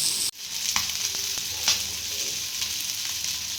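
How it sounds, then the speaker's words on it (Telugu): Chicken pieces for mandi fry in a pan with a steady, close sizzle, broken by a few soft scrapes and knocks as they are turned. "మధ్య మధ్యలో చికెన్ అనేది ఈ విధంగా తిప్పుకుంటూ ఫ్రై చేసుకోండి."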